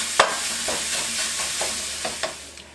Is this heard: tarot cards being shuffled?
no